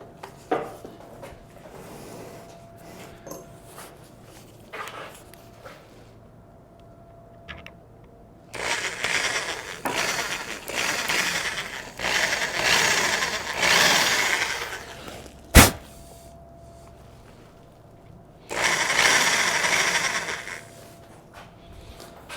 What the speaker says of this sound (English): You're gonna drill a hole in.